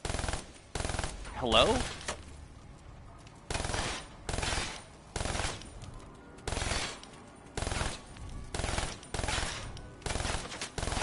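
Automatic gunfire in Call of Duty Zombies on the Gorod Krovi map, loud close bursts of rapid shots in a repeating rhythm with short pauses between, and a brief voice heard once.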